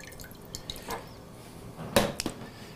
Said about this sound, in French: Je verse mon fumet de poisson avec mon jus d'huître, à peu près moitié-moitié.